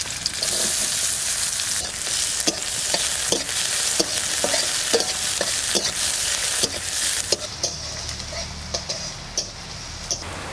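Garlic and onion fry in mustard oil with a loud, steady sizzle up close, broken by regular scraping taps of stirring.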